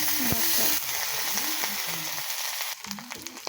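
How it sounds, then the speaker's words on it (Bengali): Onion, garlic and ginger frying in a pan, a bright continuous sizzle with scattered pops and utensil scrapes, interrupted partway by a brief tonal sound and a shift in level. "পেঁয়াজ রসুন আদা অনেকক্ষণ বেজে নিলাম"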